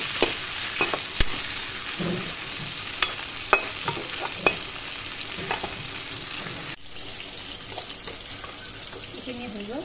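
Spiny gourd fries in a pan with a steady sizzle, broken by sharp clicks and scrapes of a spatula stirring against the metal. It is moderately close, with soft background noise toward the end.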